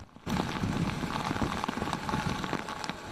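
Heavy rain from Hurricane Helene pours down on a street in Greenville, a dense, steady hiss of drops striking surfaces that begins abruptly and continues without pause.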